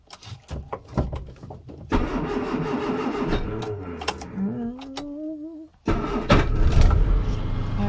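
A 1974 Austin Allegro is started with the choke out: the starter cranks and the engine catches and revs, then drops briefly before starting again and running at a loud, close, rough idle.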